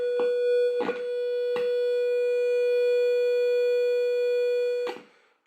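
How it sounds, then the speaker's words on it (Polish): A steady electronic test tone hums continuously, punctuated by a few short bursts of crackling static before cutting off at the end. "że ten sygnał z generatora jest."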